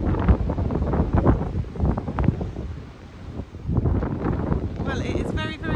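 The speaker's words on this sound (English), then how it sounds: "it is very, very windy" Strong outdoor wind in an April kitchen garden buffets the microphone with a loud, continuous broadband roar that rises and falls in gusts, while someone speaks over it throughout.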